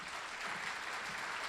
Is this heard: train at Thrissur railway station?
no